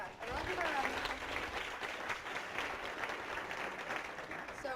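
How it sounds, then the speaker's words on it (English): A university audience applauds at a talk event, a steady round of clapping lasting several seconds with a voice talking over it. "everyone give a round of applause."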